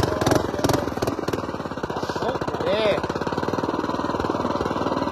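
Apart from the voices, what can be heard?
mini bike engine climbing a steep hill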